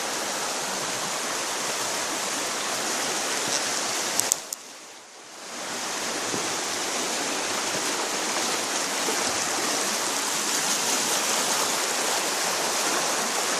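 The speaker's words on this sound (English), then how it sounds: "Lots of water coming down through there." Steady, broad rush of flowing creek water, loud and continuous, with a brief dip in the middle before the torrent resumes.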